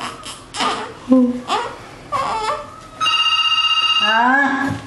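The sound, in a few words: telephone ringing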